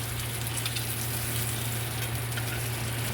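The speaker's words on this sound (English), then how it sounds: "I let it to heat up, and we're gonna flip our bacon" Bacon sizzles and crackles steadily in a hot pan on a stovetop, a close, continuous frying hiss with scattered pops and no voices.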